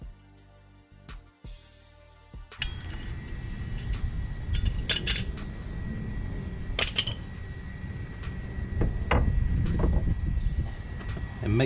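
A C-clamp presses against an old brake pad to force the pistons back into the front caliper of a 2015-2020 Cadillac Escalade. Close metallic clinks and clanks come in scattered bursts over a low, gritty rumble of working noise.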